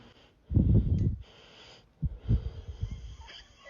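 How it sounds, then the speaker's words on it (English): Heavy, rasping breaths from someone winded after cutting a steak, a long wheezy exhale then several shorter ragged puffs, close and fairly quiet with no talk. "You breathing hard from just cutting?"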